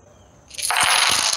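A Cash App payment notification chime rings out suddenly after a quiet moment, a bright, loud electronic tone that holds for under a second.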